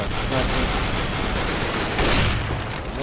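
Rapid bursts of Overwatch gunfire crackle in quick succession, loud and close, with a sharp flurry near the end.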